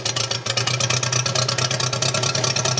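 A custom 1920s-style motorcycle engine idles steadily just after start-up, a loud, close, evenly pulsing thrum that runs without a break and with no talk over it.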